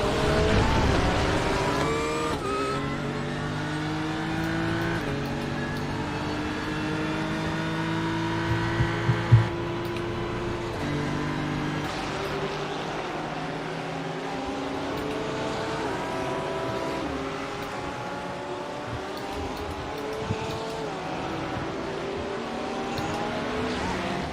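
GT3 race car engine in a racing video game at the Montreal circuit, loud and close, with rising and falling harmonic sweeps as it revs through gear changes, continuous and unaccompanied by talk.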